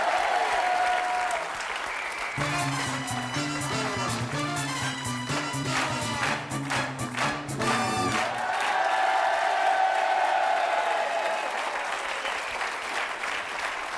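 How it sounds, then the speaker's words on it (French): French TV game show studio audience applauding with a few whoops, steady clapping lasting the whole stretch under bright theme music with a bass line that enters and then fades. "que je vous demande d'applaudir quand même"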